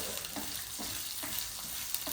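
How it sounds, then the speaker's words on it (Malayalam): Coriander seeds roast in hot coconut oil in a pan, giving a steady close sizzle broken by periodic stirring scrapes and small crackles. "അപ്പം നമുക്ക് ഇത്ര മല്ലി ഇതിലേക്ക് ഇടണം. എന്നിട്ട് നമുക്കതൊന്ന് വറുത്തെടുക്കാം."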